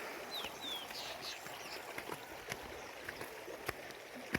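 A mountain stream in Uttarakhand, where waters from three villages meet, murmurs faintly and steadily with a soft, continuous wash and a few tiny splashes.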